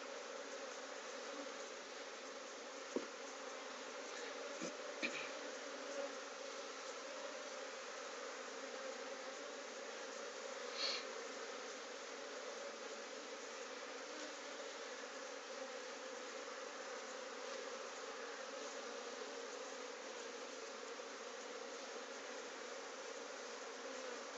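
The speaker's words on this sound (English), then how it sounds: "all the bees from that box will soon go into this side." Honey bees buzz steadily around a hive box during beekeeping work, a continuous mid-pitched drone that holds at a fairly even, moderate level throughout, with a few faint knocks and clicks near the start.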